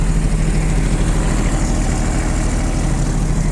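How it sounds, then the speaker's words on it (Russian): A Japanese mini excavator's diesel engine idling after starting, a steady, loud low rumble with an even throb and no variation in speed, heard alone. "Экскаватор завелся без проблем. Работает так же тихо и спокойно."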